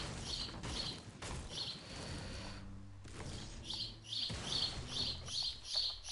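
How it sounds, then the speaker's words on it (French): Birds chirp in the Fortnite game world, short high tweets recurring in bursts through the clip, with a low rumbling ambience beneath them and no talk. "je sais pas si t'entends les oiseaux. C'est magnifique."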